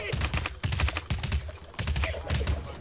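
Gunfire in the Realm Royale battle game, rapid bursts of shots in quick rhythmic clusters, repeating several times at fairly close range with no voices.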